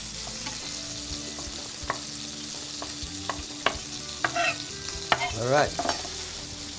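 Boneless quail fry in a hot pan with a soft, even sizzle, punctuated by sharp clinks and scrapes of utensils and a few louder crackling bursts; a voice briefly speaks.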